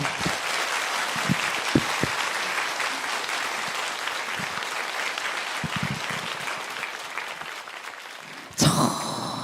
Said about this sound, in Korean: 따뜻하고 뜨거운 박수 부탁드립니다.